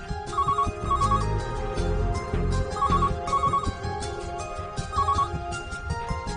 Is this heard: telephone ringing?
yes